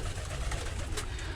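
Birmingham Roller pigeons in a loft give a short, soft burst of low cooing, close and muffled, with no talk over it.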